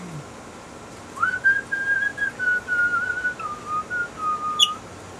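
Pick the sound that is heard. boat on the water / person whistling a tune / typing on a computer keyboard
person whistling a tune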